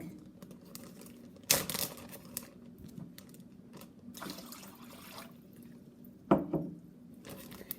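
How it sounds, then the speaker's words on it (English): Water from a glass is poured into a plastic Ziploc bag, giving soft trickling and crinkling of the plastic, with a couple of louder rustling bursts against a quiet background. "When I take the water that was first in a glass and place it now in my Ziploc bag"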